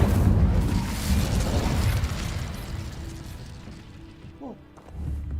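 Fire spell in a Harry Potter video game bursts into wood with a loud whooshing, crackling blast that gradually fades, followed by a few faint chimes and a low rumble near the end.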